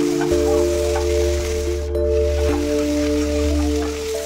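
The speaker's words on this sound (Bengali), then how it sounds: "আলুগুলো ভেজে নেব।" Potato pieces fry in a pan for aloo posto, giving a steady, even sizzle with a low constant hum underneath and no voices.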